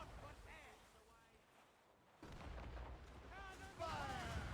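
Cannon blasts from ships in a naval battle in Assassin's Creed Rogue, heavy booms thudding under a busy game soundscape while crew voices shout.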